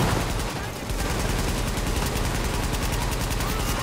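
An M60 machine gun firing in Tom Clancy's The Division, with rapid bursts of gunfire in a fast, dense rhythm, loud and close, alongside other game sounds.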